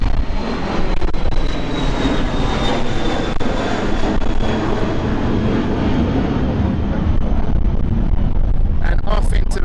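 A Cessna Citation business jet climbs out at London City airport in the evening, its loud, steady engine roar filling the scene throughout while people talk over it.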